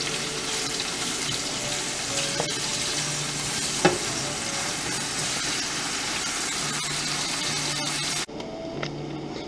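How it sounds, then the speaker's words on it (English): Onion and pepper frying in a pan for Guyanese catfish curry, a steady close sizzle running for most of the clip with a few light clinks, cutting down to a quieter hiss near the end. "So we would have fried our onion up here and the pepper like for 2 minutes"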